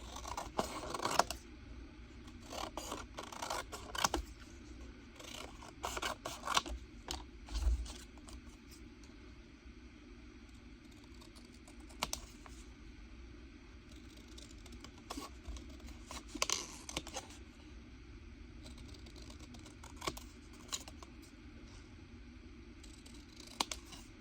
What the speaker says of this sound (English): Just going to roughly cut them first because they're not stamped in line.